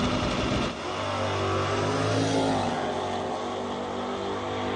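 A 2019 twin-turbocharged dragster launches at a Division 5 ET drag racing final, its engine a loud, dense, continuous roar that swells briefly and holds at full power, with no voices.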